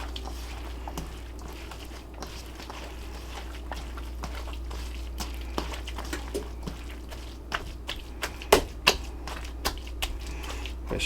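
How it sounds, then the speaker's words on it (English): A utensil stirs food in a pot while cooking quail, giving soft scraping and scattered clinks and taps over a low steady hum, with louder knocks toward the end. "I'm gonna stir this stuff around"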